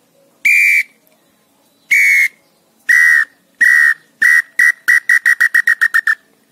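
Handheld bird-call whistle imitating the song of a female pé-roxo: sharp, bright whistled notes, a few spaced single calls and then a quickening run of short chirps, close and alone.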